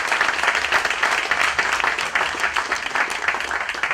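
A crowd applauds a musician after a live set: steady, full clapping carries through the whole stretch without pause, with no voices heard over it.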